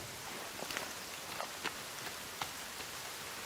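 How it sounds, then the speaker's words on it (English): Steady rainfall in the survival video game The Forest, a continuous soft hiss of drops with a few faint taps, heard alone with no voices. "Comes the rain."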